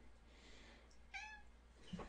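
A pet cat gives one short, clear meow in a quiet indoor room, followed by a faint second sound near the end, with no talk.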